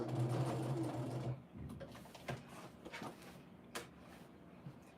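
A sewing machine stitches in the ditch along a pillow cover, a close, fast mechanical whir for over a second, then stops and gives way to a few short clicks and brief stitching bursts.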